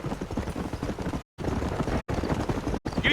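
Horse hooves clip-clopping in the video game Red Dead Redemption, a steady trotting rhythm with low thuds and a rumble of movement, broken by brief silent gaps.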